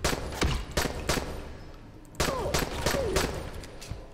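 Gunfire in the zombie game Dying Light: a quick run of sharp shots in the first half, a pause, then another burst of rapid reports with echoing tails, close and loud over a low game backdrop.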